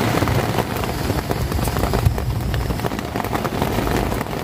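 Heavy rain drums on an old tent while camping, a dense, steady hiss and patter of drops close overhead, loud and unbroken with no talk.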